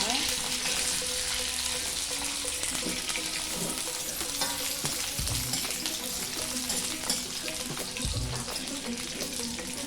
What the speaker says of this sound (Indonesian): setelah bawang merah bawang putihnya agak kering dan mewangi, kita masukkan jengkolnya